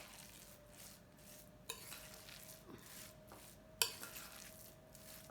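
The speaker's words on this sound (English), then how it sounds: "Now, if you choose, you can mix these by hand, but I like to do this with a spoon." A spoon stirs and scrapes through cooked rice in a bowl, soft repeated swishing with a couple of sharper clinks against the dish, quiet and close with no talking.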